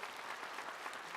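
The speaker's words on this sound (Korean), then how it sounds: "박수 한번 해주세요." A church congregation applauding in a worship service, a dense, even wash of clapping filling the whole moment with no talk over it.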